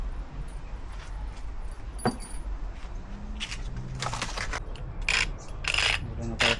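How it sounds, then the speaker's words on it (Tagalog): Car keys jangle together with a steering wheel lock, a run of bright metallic clinks and rattles with a few sharper clacks near the end, fairly close over faint background noise. "Kasama din susi."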